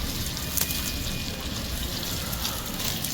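Water is poured into rice while vegetable pulao cooks, a steady broadband gush that runs the full length at moderate, close level with no talk over it.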